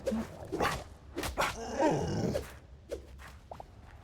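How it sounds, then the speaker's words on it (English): A dog-like creature in the Hytale video game barks several times in short sharp yips and growls, fairly close, with quieter game sounds between the barks. "there's like a dog thing here"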